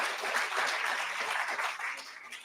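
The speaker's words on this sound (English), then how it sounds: "Let's give a big round of applause to our winners of." An audience claps for award winners at a cancer research summit ceremony, a fairly faint, steady round of applause from a modest crowd lasting a couple of seconds.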